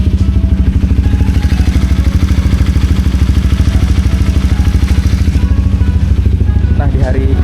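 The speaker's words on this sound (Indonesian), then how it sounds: "ini suara mesin masih enak ya, masih oke." A motorcycle engine runs loud and close on a long road trip to Lombok, a steady rhythmic pulsing throb with light mechanical clatter that holds through the whole stretch.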